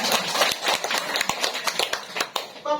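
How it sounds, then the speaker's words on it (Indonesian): An audience at a talk on hajj travel claps, producing a brief burst of quick, scattered hand claps that fades out, with a voice starting up at the very end. "Kasih tepuk tangan dulu."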